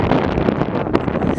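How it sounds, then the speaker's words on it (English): Strong spring wind blows across a Colorado yard, loud gusty buffeting and rumbling against the microphone with rustling, fluctuating in bursts over a brief stretch. "so windy"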